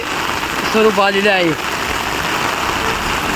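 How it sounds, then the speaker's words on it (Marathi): Heavy rain pours on a street in the town of Shirur, making a loud, continuous, close hiss while someone speaks briefly over it. "प्रचंड वेगाने पाऊस पडत असून गेल्या एक तासापासून जोरदार पाऊस पडत आहे"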